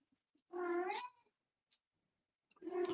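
A cat gives one clear, drawn-out meow at close range, followed by quiet, then the start of a second meow.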